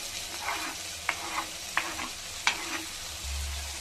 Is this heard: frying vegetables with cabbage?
yes